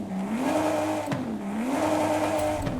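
A BMW 850 CSi (E31) V12 engine revs up and down in the video game Forza Horizon 5, in steady surges, its pitch rising and falling repeatedly, loud and continuous with no talking.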